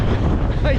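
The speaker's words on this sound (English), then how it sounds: "it is windy." Strong wind buffets the microphone on an exposed lumpy hilltop by Fan Fawr in the Black Mountains of the Brecon Beacons, a loud continuous roar filling the whole moment.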